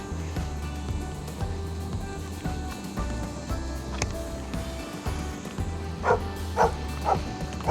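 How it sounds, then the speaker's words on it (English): A dog barks beside a rail trail during a bikepacking trip, with repeated yips and barks that grow louder and more frequent toward the end over low background rumble. "Hello, puppy dog."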